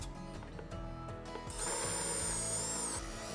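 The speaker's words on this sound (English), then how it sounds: "I start by drilling 4 holes in the corners" Power drill boring holes into a table saw extension wing, a low motor hum with gear whine that rises into a louder high-pitched cutting whir partway through, close and alone.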